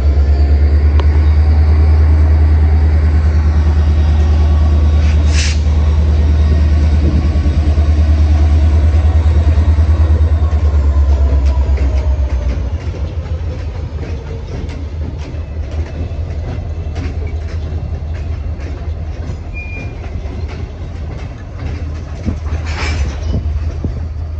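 A local freight train with a Norfolk and Western caboose rolls past close by, a loud steady rumble with rail clatter that eases to a lower, lighter rattle as the cars go by.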